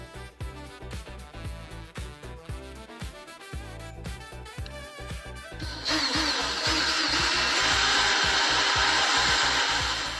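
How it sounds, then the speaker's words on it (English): A power drill bores holes into a steel tractor bucket for mounting forged D-ring hooks, the sustained whining grind starting partway through after a stretch of rhythmic mechanical clatter. "let me find the appropriate size drill bits and start the drilling."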